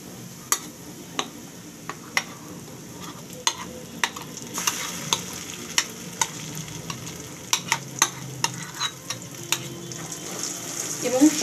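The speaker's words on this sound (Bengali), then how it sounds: "তার জন্য আমি সরিষাটাকে তেলের মধ্যে ভাজা ভাজা করে নিচ্ছি" Mustard paste frying in oil with browned onions for a hilsa-in-mustard dish: a low, steady sizzle broken by sharp, regularly spaced clicks and scrapes from stirring in the pan, close up with no talking.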